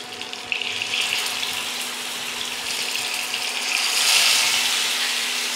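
Chicken pieces frying in very hot mustard oil for a spicy kabab, a steady close broadband sizzle with no speech that swells slightly louder toward the end.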